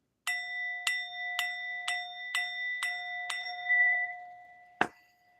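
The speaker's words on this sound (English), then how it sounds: "Let me ring the bell." A small bell is rung seven times in an even rhythm, each bright ringing tone lingering, and then comes a single sharper clink or knock near the end in an otherwise quiet room.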